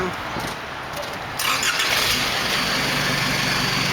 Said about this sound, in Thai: ทีนี้เรามาลองฟังเสียงกัน ติดเครื่องเลย